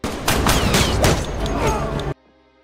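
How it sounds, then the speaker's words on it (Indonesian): Gunfire rips through a film gunfight in a tunnel: dense, loud overlapping shots and booms pour out continuously, then cut off abruptly into near silence. "Tiba-tiba musuh muncul di sana dan baku tembak pun terjadi"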